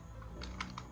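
Keys clack on a computer keyboard in a short burst of about five quick, light taps over a quiet room background.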